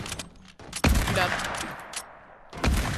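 Video game shooter gunfire in a clan match, a burst of loud shots opening the clip and another near the end, with dense sustained firing in between.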